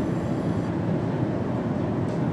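A simulated train runs on the Romford–Upminster line in Train Sim World, giving a steady, continuous low rumble and rolling noise with no voices.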